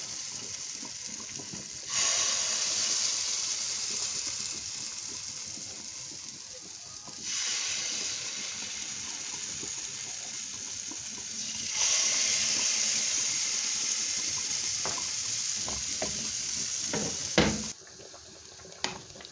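Oil hissing and sizzling in a frying pan while cooking African food, a steady bright hiss that surges in loud waves and eases between them, with a few sharp pops and clatters near the end.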